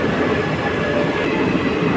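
A long passenger train from Kerala bound for Assam rolls past at speed, a loud, steady rumble of wheels and carriages with constant broadband rail noise and no pauses.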